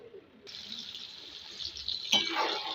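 Water is poured into mutton curry being cooked down in a pan, giving a steady close hiss and splash that ends in a brief louder sizzle.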